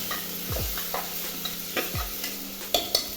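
Onions with a little salt fry in a pan for chicken curry as a spoon stirs them, giving a soft steady sizzle with a few scraping strokes and light clinks close by.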